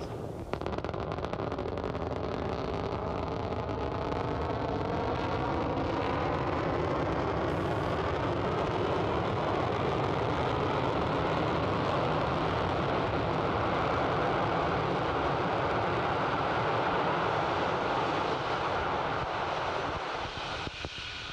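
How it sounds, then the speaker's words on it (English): Falcon 9 first-stage booster firing its landing burn during an NROL-48 mission at Vandenberg, California: a loud, continuous broadband rocket roar lasting throughout, steady and dense with wind-like rumble and no talk. "Now the landing burn has begun for the Falcon 9 first stage."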